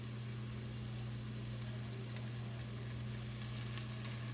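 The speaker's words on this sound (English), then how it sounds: "I can hear them sizzling" Onions sizzle in a pot while stew beef is cooked, a continuous soft crackling hiss over a steady low hum, heard close and alone without talk.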